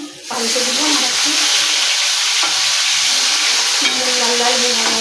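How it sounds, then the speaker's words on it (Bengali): Fish pieces fry in a pan with a loud, steady sizzle throughout, with a few stirring and turning clatters. "মাছ ভাজা এক পিস হয়ে গেছে, পাল্টে দিলাম"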